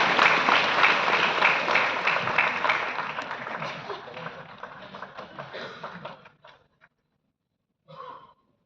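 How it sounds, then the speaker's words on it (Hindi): An audience at an award ceremony in Vigyan Bhawan, New Delhi claps loudly for a recipient taking the stage, a dense burst of applause thinning to scattered claps, then a brief final patter. "जोरदार तालियों से मंच पर स्वागत कीजिए श्री दानिश महाजन पठानकोट पंजाब से"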